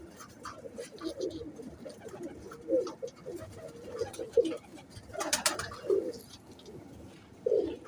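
Golden and teddy pigeons coo in repeated soft, throaty phrases at close range, with brief rustling and a sharper burst in the middle, against a quiet background.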